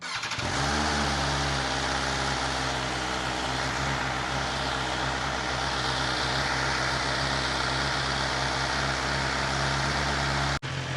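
A BMW S1000XR motorcycle fitted with a new aftermarket exhaust runs close by with a loud, steady, throaty engine roar held at high revs for about ten seconds before cutting off abruptly.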